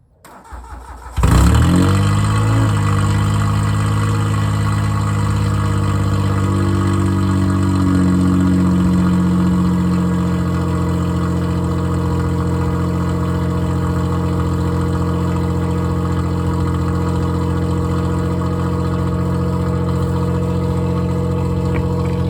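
A car with no muffler and no catalytic converter, only a resonator, cranks briefly in a hard freeze and catches, flaring up loudly before settling into a steady, raw, rumbling idle that drops slightly in pitch as it runs on.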